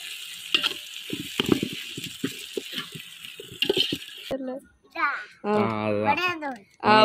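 Biryani masala, with ginger-garlic paste and freshly added yogurt, frying and sizzling in a pan, with a crackling hiss and clinking that give way to clear speech in the second half.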